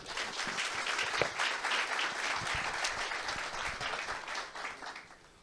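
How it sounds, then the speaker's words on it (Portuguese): An audience at a real estate economics panel in Linhares applauds as panelists are called to the stage, a steady wash of many hands clapping that fades out at the end. "Por favor, uma salva de palmas, gente"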